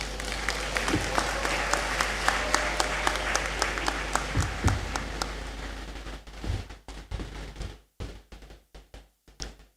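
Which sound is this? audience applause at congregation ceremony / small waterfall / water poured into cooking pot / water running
audience applause at congregation ceremony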